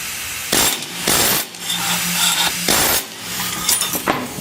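A plasma cutter cuts steel for a home-built rack in several loud, harsh hissing bursts separated by short pauses, each burst close and sputtering.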